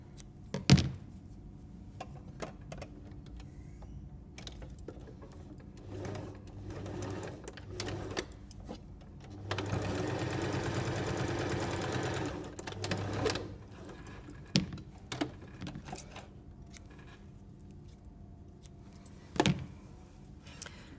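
Sewing machine stitching fabric for a cutlery pouch, with a short, steady whir of a few seconds in the middle amid quiet handling, light taps and clunks, close by.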